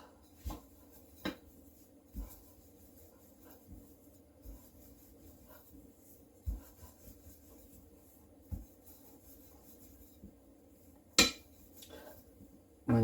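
Chapati dough is rolled out on a board with a rolling pin, giving sparse, soft knocks and clicks at irregular intervals over quiet rubbing, with one sharper tap near the end.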